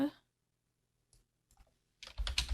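Computer keyboard typing while a gift tag's text is written, a short burst of dense, close key clicks at the end after near silence, with a brief voice at the start.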